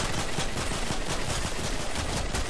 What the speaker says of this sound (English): So simply shoot her in the head.